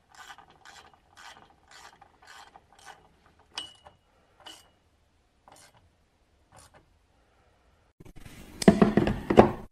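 A small Peddinghaus ratchet from a universal tool case clicks in a quick run of even, close, crisp ticks, pauses, then gives a few separate clicks before a louder, rougher burst of ratcheting and rattling at the end, with no voices.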